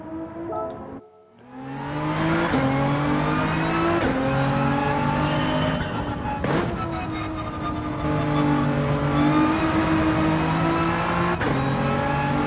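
Nissan GT-R engine in Gran Turismo 7 revving hard and steady through a race at Dragon Trail, loud and close, with brief dips at gear shifts and no talking.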